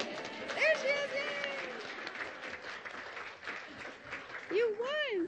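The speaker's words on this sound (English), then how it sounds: "Cheering over there. That's awesome." An awards-ceremony audience cheering and clapping, with an excited voice calling out over it and a high whoop near the end.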